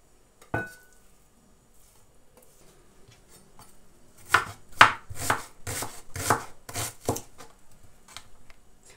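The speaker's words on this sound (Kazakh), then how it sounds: "Енді пиязымызды тураймыз." A knife chops onion finely on a board for a meat pie filling. One sharp knock comes first, then a quick close run of about nine crisp chopping strikes.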